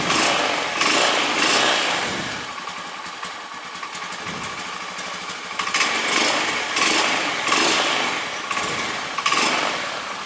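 A motorcycle's freshly replaced electric starter cranks the engine, which runs as a continuous rough mechanical drone for about ten seconds with small surges, close and fairly loud, no speech.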